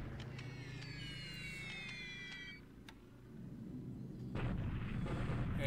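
Airstrike in a WWII strategy video game: high whistling tones come first, then a deep, rumbling burst of explosions swells up near the end, with no speech.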